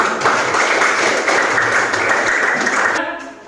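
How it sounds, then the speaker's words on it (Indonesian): Classroom applause from a group of students, dense steady clapping filling about three seconds before cutting off, with some voices mixed in. "Silakan kita beri aplaus untuk kita semua"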